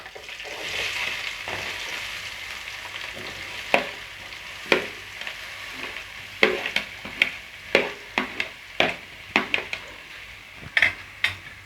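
Onions fry with red and green chillies in a pan, a continuous close sizzle punctuated by a rapid run of sharp metal spoon scrapes and taps against the pan, growing busier toward the end, without talk.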